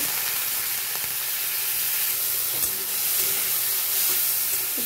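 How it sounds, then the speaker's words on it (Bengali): Small shrimp coated in turmeric and salt fry lightly in oil, a continuous steady hiss of sizzling close by with a faint clink or two, no voices. "একটু হালকা করে চিংড়ি মাছগুলোকে ভেজে নেব"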